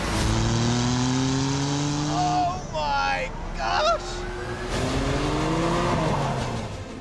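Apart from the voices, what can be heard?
Jaguar XJ220 sports car accelerating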